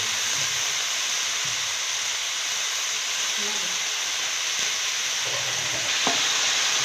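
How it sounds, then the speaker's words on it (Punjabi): Cluster beans being stirred into fried spices in a pan, with a steady close sizzle and hiss throughout and a few brief scraping stirs near the end. "ਚੰਗੀ ਤਰ੍ਹਾਂ ਇਹਨਾਂ ਨੂੰ ਹਿਲਾ ਦੇਣਾ ਜੀ ਮਿਕਸ ਕਰ ਦੇਣਾ ਤਾਂ ਜੋ ਮਸਾਲਾ ਇਹਨਾਂ ਨਾਲ ਚੰਗੀ ਤਰ੍ਹਾਂ ਲੱਗ ਜਾਵੇ"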